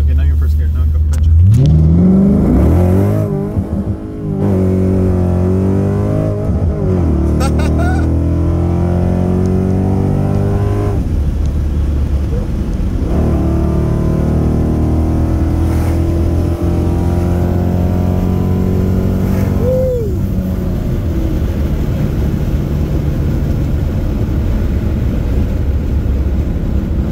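A car fitted with long tube headers accelerates hard in first gear, its loud engine rising in pitch through a long pull before easing, close up, with a voice speaking over it.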